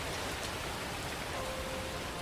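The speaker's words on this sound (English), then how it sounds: "We got some rain effects, okay. Weather system, love to see it." Steady rain from the weather effect in the video game Neverness to Everness hisses as a dense, even wash of drops, continuous and moderately loud with no talking over it.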